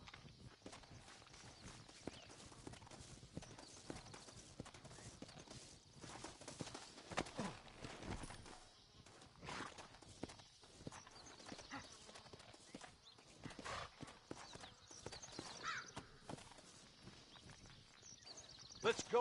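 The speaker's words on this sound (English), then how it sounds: "Looks like Carlos left us some horses." In the Red Dead Redemption video game, horses clip-clop and gallop along, with quick irregular hoofbeats running through a quiet, busy scene and occasional faint snorts, while voices speak now and then.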